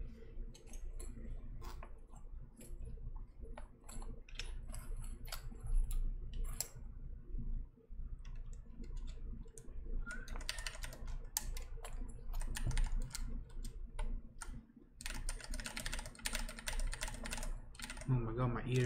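Keycaps being pressed onto a KB75 mechanical keyboard, a long run of irregular plastic clicks and clacks, close and fairly quiet, with bursts of faster rattling toward the end.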